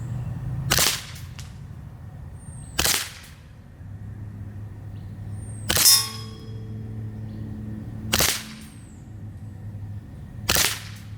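Glock 19 Gen 5 CO2 blowback BB pistol firing five sharp, evenly spaced shots, each a loud snapping crack with a metallic clang of the slide, separated by quiet pauses.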